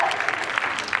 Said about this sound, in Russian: Поаплодируй сам себя.